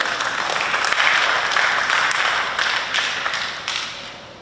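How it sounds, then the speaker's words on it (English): An audience at a high school National Honor Society induction ceremony claps, a dense, even wash of applause that holds steady for several seconds with a few sharper individual claps. "It's okay, you can applaud."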